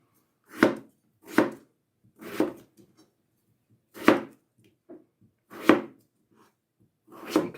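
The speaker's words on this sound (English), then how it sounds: "So try and make your slices even, so you want all of the potato to cook together at the same time." Potatoes being sliced with a knife, about seven separate crisp cuts landing on a board at an uneven pace, close and clear against near silence.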